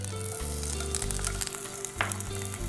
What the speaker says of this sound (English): now that my pan is nice and hot, I'm gonna start doing a quick saute of onions, jalapeno peppers,